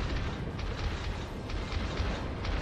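Battleship gunfire and shell explosions in the naval combat game World of Warships, a dense continuous rumble of deep booms and bursts with no clear gaps, moderately loud throughout.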